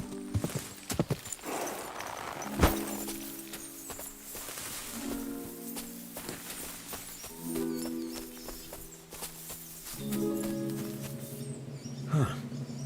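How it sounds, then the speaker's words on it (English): A black horse in the woods of Kingdom Come: Deliverance II, hooves clip-clopping at a steady walk with a brief whinny, set against soft forest ambience and faint game music. "A horse? What's it doing here in the woods?"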